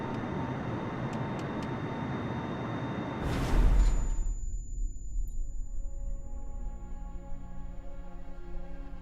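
A Boeing airliner flying in a video game, with a steady broad engine roar that surges briefly, then drops away to a thin, quieter drone with faint tonal hum.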